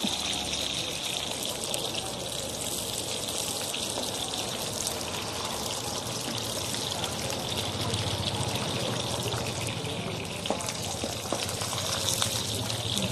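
Holy basil leaves frying in very hot oil in a wok, making a steady, loud, close hissing sizzle that holds unbroken throughout, with faint crackles rising now and then.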